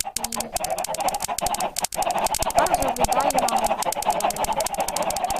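Chickens cluck on a chicken farm in the video game Minecraft, scattered clucks heard under someone speaking Polish, with steady game background noise throughout.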